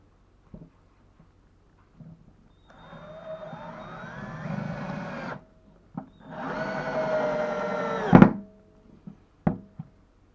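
An SGS 5131 12 V cordless screwdriver drives a larger screw in two whirring bursts of a few seconds each, its motor pitch rising and straining, framed by clicks and handling knocks.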